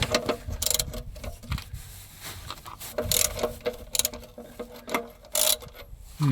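A hand ratchet clicks during an oil change on a Volvo V50, in short bursts of rapid close-up clicking with brief pauses between strokes and no talk.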